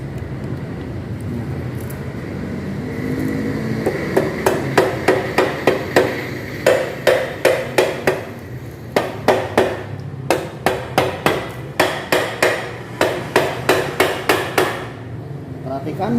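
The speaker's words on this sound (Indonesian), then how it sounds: "Kita perlu palu plastik ya." A plastic mallet taps a Honda Vario 150 engine crankcase with repeated light knocks in short rhythmic bursts, close and distinct over a faint background hum.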